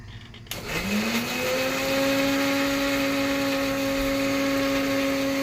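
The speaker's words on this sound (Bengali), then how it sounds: "এই তো আমি মিক্সারে বসিয়ে দিয়েছি।" An electric mixer grinder grinding spices whirs up to speed after a short pause, then holds a loud, steady motorized hum and whine.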